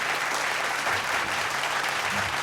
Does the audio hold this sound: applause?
yes